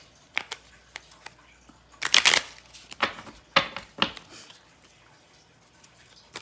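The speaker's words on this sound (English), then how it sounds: "let's pull your love oracle cards now" Love oracle cards being shuffled by hand, a close, crisp series of riffling flutters and soft slaps in short bursts, with no talking.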